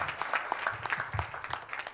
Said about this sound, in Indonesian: Boleh kita berikan tepuk tangan yang meriah buat Tuhan.